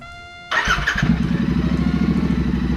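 A Royal Enfield Continental GT 650 motorcycle engine starts up and settles into a steady, rhythmic idle, close and fairly loud, with no talking.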